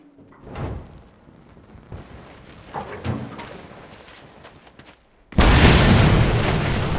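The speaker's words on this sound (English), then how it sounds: "One blast should split it wide open." A blast in the Mad Max video game tears open a gate, arriving as a sudden loud, sustained roar after several seconds of quieter rumbling and thuds.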